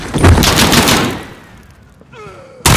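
Gunfire in the Call of Duty mission Old Comrades: a loud rapid burst of automatic fire that fades into echoing tails and ringing, then a single sharp shot at the very end.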